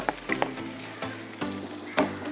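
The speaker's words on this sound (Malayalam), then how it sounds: "അപ്പോൾ നമ്മുടെ ഓയിൽ ചൂടായ ടൈമിൽ നമ്മൾ ചെറുതായിട്ട് അരിഞ്ഞു വെച്ച" Finely chopped potatoes frying in hot oil for a Spanish omelette, a constant close sizzle punctuated by several sharp stirring scrapes and knocks, with no voices.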